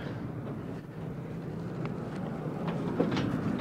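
Model diesel train running on a layout track, a soft continuous rolling rumble with faint clicks, close but quiet.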